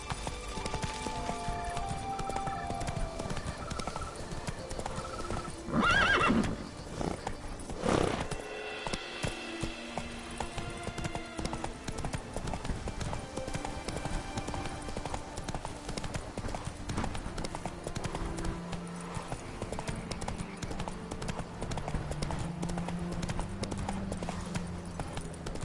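Roach, Geralt's horse in The Witcher 3, trots with steady rhythmic hoof clip-clops under a game soundscape with music, and one brief louder burst partway through.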